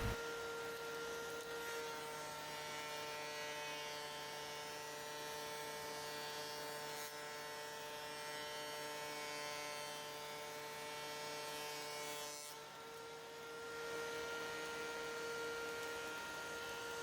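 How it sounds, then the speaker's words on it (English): A thickness planer feeds pieces of wood, giving a steady, droning motor whine with strong tonal hum. The sound holds constant for the whole stretch, with a short dip and shift in tone late on. "it helps eliminate snipe whenever I use my planer"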